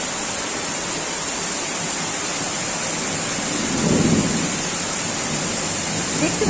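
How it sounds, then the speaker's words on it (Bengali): Heavy monsoon downpour seen from a balcony, a steady dense hiss of rain filling the whole clip with a slightly louder swell midway, no voices. "এখানে মুষলধারে বৃষ্টি হচ্ছে"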